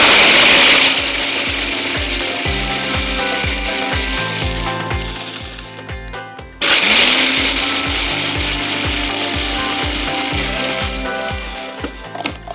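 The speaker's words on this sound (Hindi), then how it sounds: "कुकीज़ हमारे जाएंगे इन आवर फूड प्रोसेसर। इसको हम कर देते हैं चूरा।" A food processor blitzes cookies into crumbs with a loud, steady motor whir and rattling chop, pausing briefly midway before starting up again, with no talking.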